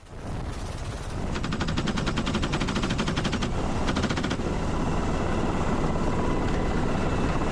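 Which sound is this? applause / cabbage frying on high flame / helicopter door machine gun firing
helicopter door machine gun firing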